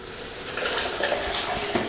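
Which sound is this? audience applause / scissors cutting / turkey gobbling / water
water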